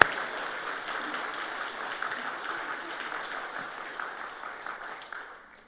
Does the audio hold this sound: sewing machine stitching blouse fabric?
no